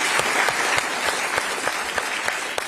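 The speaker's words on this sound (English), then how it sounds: "So give them an applause." Audience applause at the World Economic Forum Annual Meeting in Davos, a steady wash of many hands clapping from a large hall crowd, even and sustained without any voices over it.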